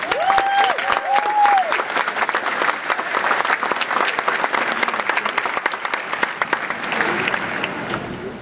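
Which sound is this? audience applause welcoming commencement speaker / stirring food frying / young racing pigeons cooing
audience applause welcoming commencement speaker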